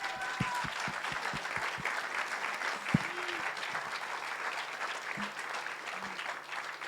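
A festival closing-ceremony audience applauds steadily, broad continuous clapping with a few faint low tones and a sharp knock near the middle, no talking over it.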